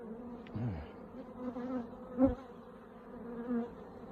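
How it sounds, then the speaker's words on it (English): A low, steady hum of many honey bees buzzing close by as they are shaken from hive super frames into a box, with a few louder swells as individual bees pass near. "I'm just shaking the bees from the super frames into here"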